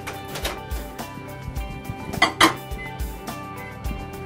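A microwave bell lid set back onto its plate, giving a couple of close metallic clinks among lighter kitchen handling knocks.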